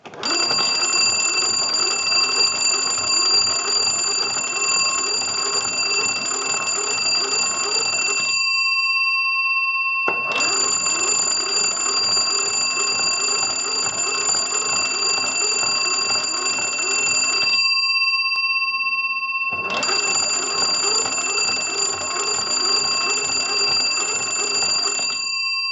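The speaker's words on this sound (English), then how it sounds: "crank the magneto and ring the original bells" Original bells of a Western Electric 250W wood wall telephone rung by cranking the magneto: three long bursts of rapid metallic ringing, each several seconds long, separated by short pauses, loud and close.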